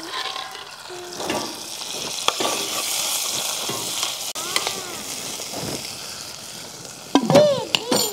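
Sarson ka saag frying in a pan in a village kitchen, a continuous soft sizzle with occasional stirring clatter and a louder knock near the end.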